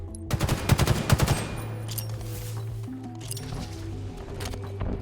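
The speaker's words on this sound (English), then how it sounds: "Starts by putting a few shots on what he can see." Gunfire in the video game Halo Infinite, a rapid burst of loud close shots at the start, followed by scattered lighter game effects and a steady hum.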